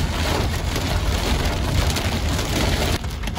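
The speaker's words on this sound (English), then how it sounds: "Fucking rocks bouncing. We got a big hail." Hail from a thunderstorm hammers a vehicle driving to a fresh wildfire start in the Cariboo, a dense, loud, continuous rattle of stones striking the body, briefly easing near the end.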